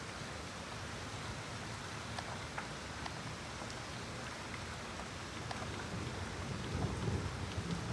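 Heavy rain pours steadily during a night storm, a dense continuous hiss that swells slightly louder near the end with no voices.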